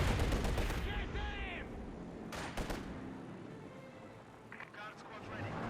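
Bursts of light machine gun fire amid battle noise in the Company of Heroes 2 strategy game, rattling under continuous commentary with scattered explosions and engine rumble.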